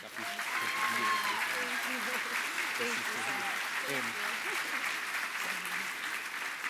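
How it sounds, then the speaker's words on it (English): An audience at a luncheon applauds in a steady round of clapping while a voice speaks over it near the start, the claps continuing evenly throughout. "another round of applause"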